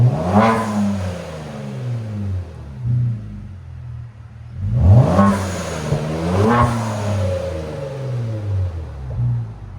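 A 480 hp Kia Stinger GT with a 3.3L twin-turbo V6, stage 6 tune and muffler delete revs loudly from close by, with two strong rising-and-falling throttle blips over a rumbling, raspy exhaust idle.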